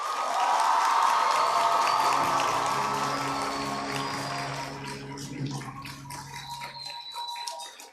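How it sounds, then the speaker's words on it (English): Loud crowd applause and cheering at a high school graduation ceremony, swelling at first, then slowly thinning into scattered claps and a few shouts as it dies down. "Now put your hands together and applaud your parents."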